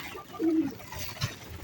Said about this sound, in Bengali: এই যে দেখুন কবুতর কিন্তু এই যে আরো উপর দিয়ে সবাই বসে আছে সারি সারি হয়ে